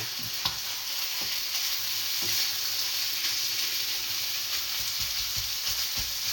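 Fatty ground beef, about 12 to 18 percent fat, fries hard in a hot pan for a Bolognese sauce, a loud, steady sizzle broken by a few sharp scrapes and clicks of stirring.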